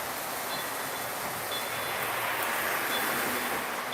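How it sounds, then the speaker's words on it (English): Model trains, including a K4 steam locomotive model, running on layout track, giving a steady, continuous rumble and whir with no breaks. "Let me turn the trains off so I can hear again."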